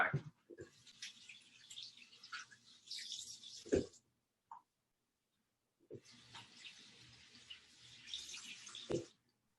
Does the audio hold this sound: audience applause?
no